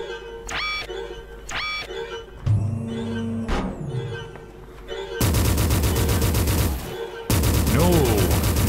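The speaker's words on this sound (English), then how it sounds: "This is my Hyper Blaster. Plasma gun." Hyper Blaster plasma gun firing in the game Forgive Me Father, with loud, close bursts of rapid synthetic shots running in dense, continuous volleys, broken by brief pauses and a few isolated blasts.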